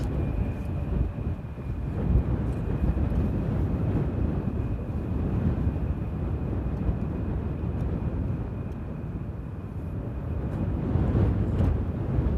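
A passenger airplane landing at Amsterdam Airport, a steady distant jet roar with broadband rumble holding throughout, outdoors with wind, no talk.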